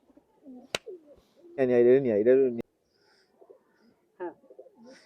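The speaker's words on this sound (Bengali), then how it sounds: "এবার হচ্ছে আমার চট কবুতর" A chot pigeon coos in a rolling, throaty burst of about a second, close by, between scattered soft sounds and a sharp click.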